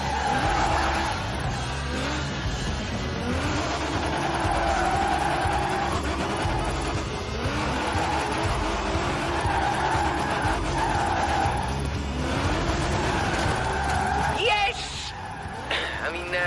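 A car drifts in the racing game Forza Horizon 4, with sustained tyre squeal and skidding over a droning engine. A voice speaks over the continuous slide.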